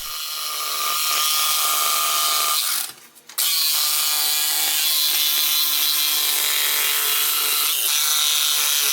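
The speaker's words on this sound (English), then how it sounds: "my father bought me this little Black & Decker jigsaw" An old Black & Decker jigsaw cuts wood with a loud, buzzing rasp that stops briefly partway through, then resumes steadily until the end.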